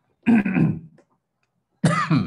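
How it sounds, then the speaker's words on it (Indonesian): Two short coughs, close and clear, separated by a second of silence. "Aduh, batuk."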